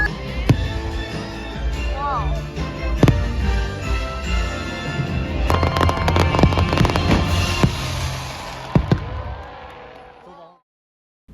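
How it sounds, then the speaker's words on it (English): Christmas fireworks burst over the Magic Kingdom castle, with sharp pops and crackles building to a dense, loud barrage over holiday music before the sound cuts off abruptly. "fireworks lighting up the castle with holiday music in the background"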